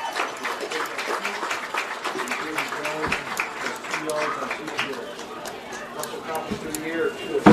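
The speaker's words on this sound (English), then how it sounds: "one more big warrior round of applause for these warrior athletes and their hard work" Crowd at a high school football game applauding the Winamac warrior athletes, a steady burst of clapping and cheering from the stands with chatter mixed in, fairly loud throughout.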